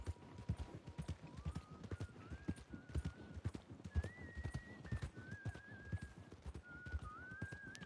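Steady clip-clop of horse hooves trotting in a regular rhythm in Red Dead Redemption 2, with a soft whistling melody drifting above.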